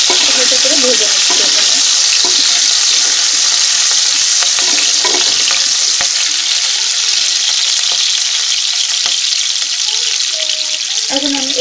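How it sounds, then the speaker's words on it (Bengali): Onion and green chilies frying in a pan with a constant loud sizzle, and occasional scraping and clicking from stirring throughout. "আমি এখানে অল্প পরিমাণ দিলাম আর হালকা দিয়ে হালকা করে ভেজে নিচ্ছি"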